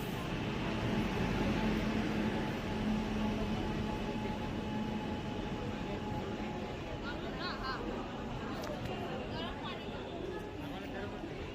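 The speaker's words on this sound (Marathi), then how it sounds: "आता आपली ट्रेन आलेली आहे मँगलोर एक्सप्रेस।" The Mangalore Express rumbles steadily into Thane station, its heavy low drone and clatter continuous, with a faint hum and voices murmuring in the crowd.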